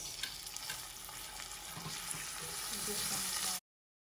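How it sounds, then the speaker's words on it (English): Rice for a Turkish pilaf frying in a pan over medium heat gives a steady, dense sizzle that holds even and close throughout, then cuts off abruptly. "So let's start adding the rice."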